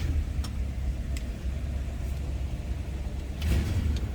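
A 1959 DeSoto Firesweep Sportsman engine idles steadily with a low, continuous rumble, alone, with a couple of faint clicks and a slight swell near the end.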